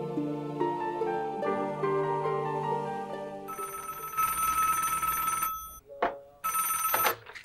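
A telephone ringing indoors during a Marathi TV serial scene: a loud electronic ring plays continuously, changing tone partway through, then cuts out briefly before ringing again, with no talk over it.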